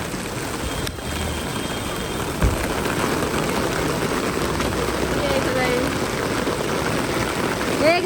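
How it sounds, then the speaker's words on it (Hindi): A sudden heavy downpour at night roars as a dense, steady wash of rain on surfaces, loud and continuous, with voices heard beneath it. "एकदम से मतलब अभी मौसम था भी नहीं बारिश वाला और इतनी जबरदस्त बारिश आई है"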